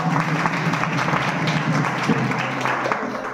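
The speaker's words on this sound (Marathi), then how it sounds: "आमच्या भाऊसाहेब दादांसाठी सुद्धा टाळ्या" An audience at a kirtan applauds, giving a dense, steady clapping that fills the room for a few seconds while a voice carries faintly underneath.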